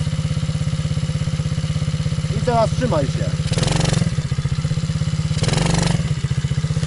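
An MRF 80cc kids' motorcycle engine idles steadily and close by with an even, throbbing putter. Someone talks over it briefly, and two louder noise bursts cut in.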